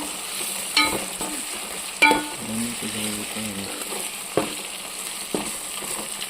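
A spoon stirs a homemade ginger mixture in a pan, with sizzling throughout and sharp scrapes against the pan at irregular intervals, close and fairly loud.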